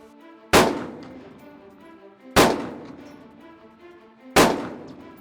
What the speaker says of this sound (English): The range is hot. Fire when ready.